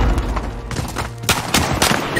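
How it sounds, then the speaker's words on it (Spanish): Dense bursts of automatic gunfire and sharp shots in Call of Duty Warzone Pacific on the Caldera map, loud and close, rattling almost without pause. "¡Me están disparando!"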